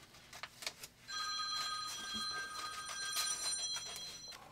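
A telephone bell rings steadily and fairly loud in a workshop, a bright repeating electronic ring that keeps going after a few faint clicks, with no talking over it.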